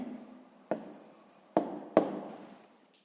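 Pen or pencil writing a short answer on paper during a sixth-grade maths exercise, heard as three faint, brief taps and strokes spread over a few seconds in a quiet room, without speech.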